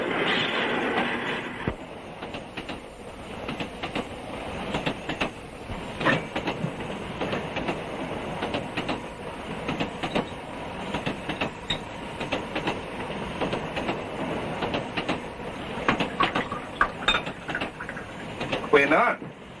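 A passenger train in 1960s South Africa, bound for Johannesburg, rumbles steadily along the rails with a continuous rattle and scattered clicks. The noise stays at an even, moderate level for the whole stretch.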